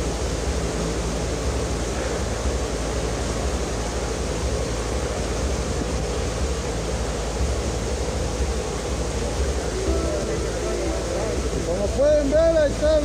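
Flooded Acelhuate river in El Salvador, swollen and overflowing, roars with a constant broad rush of water loud and close, with a faint voice near the end.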